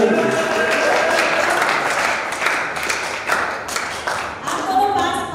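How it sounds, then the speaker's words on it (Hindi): At a Holi celebration event, an audience claps in a loose, mid-level burst of applause lasting several seconds, with voices talking over it. "अरे ताली तो बजाओ यार।"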